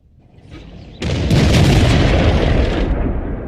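Tank cannon fires in World of Tanks: one loud, heavy boom that erupts abruptly after a quiet rumble and rolls on for a couple of seconds, no talking.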